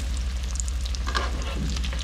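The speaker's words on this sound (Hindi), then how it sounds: "तो शामी भी फ्राई हो रहे हैं" Shami kebabs frying in oil, a steady close crackling sizzle with a constant low hum underneath and no voices.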